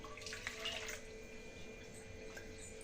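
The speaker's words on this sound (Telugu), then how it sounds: "అదే కప్పుతో 2 cups వాటర్ యాడ్ చేసుకోవాలండి" Water is poured from a cup into a pan on a stove while rice-flour chips are being made. A soft, faint splashing trickle is heard, then it fades into quiet kitchen background.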